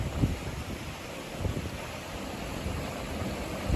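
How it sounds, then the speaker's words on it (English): Wind gusts buffet the microphone at a coastal lighthouse spot, giving a rough low rumble with a few sharper thumps over a steady broadband hiss. "It's quite windy"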